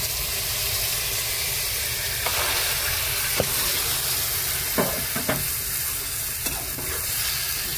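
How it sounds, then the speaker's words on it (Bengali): Chickpea dal stirred into frying potatoes in a pan gives a continuous loud sizzle, with occasional scraping clicks of a spoon against the pan. "এবার আমি ছোলার ডালটা ঢেলে দেবো।"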